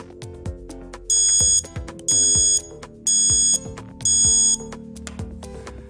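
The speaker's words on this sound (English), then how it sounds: "It's preset to ring as soon as you unplug your device." A charger leash alarm rings after a device is unplugged: four loud, evenly spaced bursts of shrill electronic ringing, with softer clicks and tones between them.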